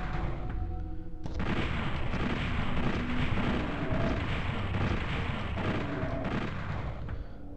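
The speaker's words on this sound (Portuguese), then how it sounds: "Aí a explosão da bazuca dele tá pegando nele também." Rocket explosions and gunfire in the Nintendo 64 shooter Doom 64: a dense, continuous barrage of booming blasts and rapid shots, loud and crowded, with no talking.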